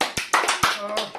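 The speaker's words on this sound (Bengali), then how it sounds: "হাততালি দাও কেউ।" A few sharp hand claps in quick succession, close and loud, mixed with a voice talking over them, as a small group celebrates the winner of a panipuri eating challenge.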